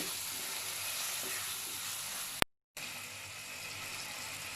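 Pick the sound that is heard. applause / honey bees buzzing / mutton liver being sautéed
mutton liver being sautéed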